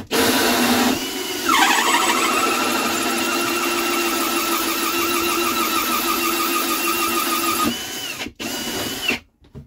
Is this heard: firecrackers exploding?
no